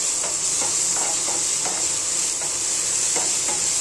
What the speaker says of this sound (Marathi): आता ही वाटलेली मिरची ना त्याच्यामध्ये फ्राय होऊन द्यायची चांगली